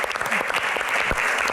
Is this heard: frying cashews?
no